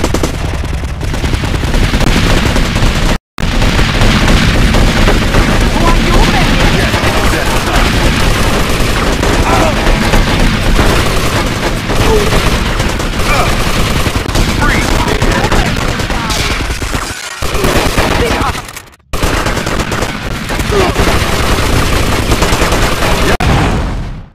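Sustained automatic gunfire rattles through a shootout in GTA Vice City Stories. The bursts are loud and near and keep up almost without pause, broken only by a few brief silent gaps.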